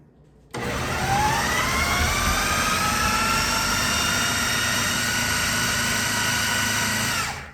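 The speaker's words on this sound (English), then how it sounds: "So I'm going to put all this into my food processor." A kitchen food processor runs steadily at high speed, blending homemade dog food ingredients including cauliflower, with a loud continuous motor whir that starts abruptly and holds for about seven seconds.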